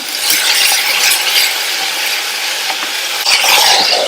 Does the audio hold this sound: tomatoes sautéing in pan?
yes